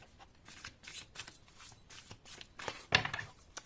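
A deck of cards handled and shuffled during a tarot-style reading, soft riffling and shuffling bursts with one sharper snap near the end, close and fairly quiet.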